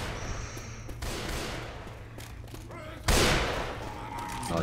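Gunshots in Left 4 Dead 2, a co-op zombie shooter: scattered shots crack over steady game noise, then one loud, sharp blast rings out, with voices talking over parts of it.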